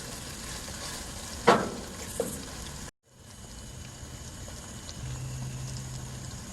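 Stewed tomatoes cooking in a pan, a soft, low simmering sizzle with a couple of sharp utensil knocks early on, a brief dropout, then the quiet bubbling resumes alone.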